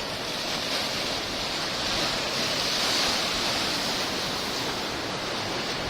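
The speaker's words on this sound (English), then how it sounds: "It's nice to see waves." Ocean surf washing steadily against the shore near a coastal fort and lighthouse in Jerez, a continuous broad rushing roar with gentle swells in loudness and no voices.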